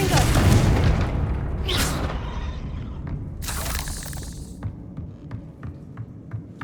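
A Confringo spell explosion in Hogwarts Legacy starts with a deep booming throb, then gives way to sharp bursting cracks and a fading rumble with scattered small clicks as debris settles.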